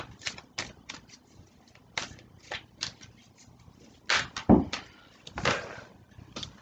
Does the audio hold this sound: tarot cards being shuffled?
yes